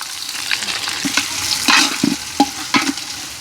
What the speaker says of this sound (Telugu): ఈ ఎర్రగడ్డలు పచ్చిమిరకాయలు అయితే దోరగా వేగించుకుందాం